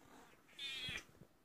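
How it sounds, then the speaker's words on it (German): A house cat gives a single short, quiet meow indoors, close by, with faint room noise around it. "Das war meine Katze, auf jeden Fall."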